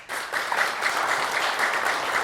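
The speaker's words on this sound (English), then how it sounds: "Vote with your applause." A jazz vespers audience votes for Clair de Lune with a short burst of applause, dense clapping from many hands at a steady, moderate level.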